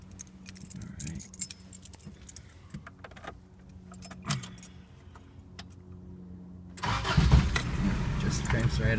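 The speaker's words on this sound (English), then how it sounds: "Just cranks right up. First crank every time." Keys jangle and a speaker talks before a 1986 Toyota 4Runner with a 22RE engine cranks briefly and catches on the first try, settling into a loud, steady idle close by.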